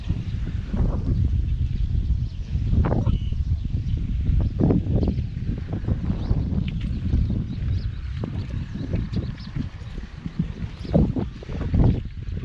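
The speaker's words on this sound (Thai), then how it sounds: "ลมจะแรงหน่อยครับ" Strong wind blows steadily outdoors at a motorway construction site near a bridge, a loud continuous rumbling roar with gusts buffeting the microphone throughout, and no talk.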